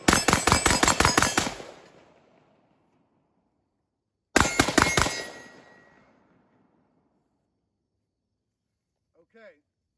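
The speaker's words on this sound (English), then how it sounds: "Multiple rapid firing. This weapon stays right on the target in close quarter." A Geissele Super Duty rifle fires two quick strings of rapid shots in close quarter drills, each a loud, close cluster of sharp cracks that rings out and decays. A brief faint voice follows.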